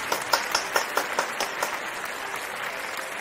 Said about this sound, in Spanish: Brindémosles un fuerte aplauso a nuestras excelencias académicas 2020.